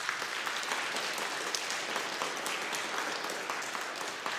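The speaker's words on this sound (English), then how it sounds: "Let's give them a round of applause." A crowd applauds continuously at a school awards event, a dense, even wash of many hands clapping at moderate volume from start to finish.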